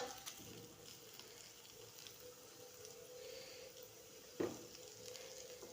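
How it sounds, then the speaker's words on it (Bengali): Food frying until brown in a pan gives a faint, steady sizzle throughout, with one brief clatter near the end and no talking. "এগুলো একটু ব্রাউন করে ফ্রাই করে নেবে তোমরা"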